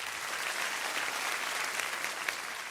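Steady audience applause after a performance on a Malayalam TV game show stage, a dense continuous wash of many hands clapping without pause and no voices over it.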